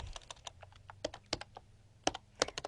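Fingers type quickly on a computer keyboard while a MySQL query is written for a jQuery Ajax coding lesson, giving close, irregular bursts of light key clicks with brief pauses and a few harder keystrokes.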